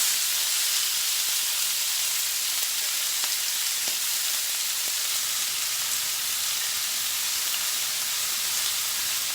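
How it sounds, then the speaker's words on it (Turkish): Steady sizzling hiss of lamb for sac kavurma frying in a hot pan on full heat, continuous and fairly close, with a few faint clicks and no talking. "Etlerimizi her tarafa yayıyoruz tavamızın."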